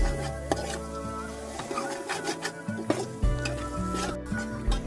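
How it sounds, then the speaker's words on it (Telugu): A spoon stirring turmeric and chili powder into curry in a pan over an improvised outdoor fire, with scraping strokes and clinks against the pan over a soft sizzle, while a low droning tone runs underneath. "పసుపు కారం వేసాక బాగా కలుపుకొని ఒక 2 నిమిషాలు మగ్గనివ్వాలి"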